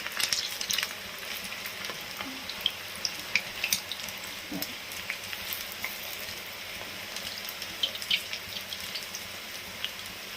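Cabbage pakoda frying in hot oil on medium heat, giving a steady close sizzle with scattered pops and crackles that continue throughout, with no talking.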